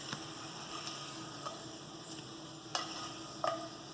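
Sliced potatoes sizzle and crackle in a pan of hot oil for a white pizza, a soft steady frying hiss with occasional sharp pops and stirring clicks, fairly quiet and close.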